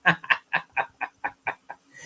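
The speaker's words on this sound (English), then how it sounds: "I hear the frogs are croaking." A quick series of about nine evenly spaced croaks from frogs during rain, each a short raspy pulse, moderately close and heard alone.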